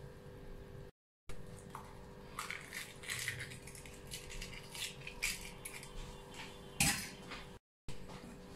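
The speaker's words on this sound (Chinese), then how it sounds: "继续顺时针或者逆时针一个方向的搅拌" Egg, salt and scallion for an egg and scallion pancake are stirred in a bowl, giving close, continuous clinking and scraping of utensil against bowl with uneven rattling strokes and short gaps.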